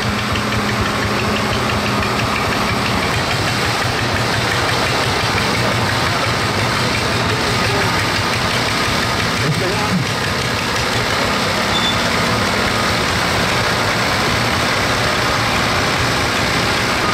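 A vintage tractor engine at an oldtimer and youngtimer tractor-pulling meeting runs loud and continuous, with a knocking, rumbling drone that holds steady throughout without talk.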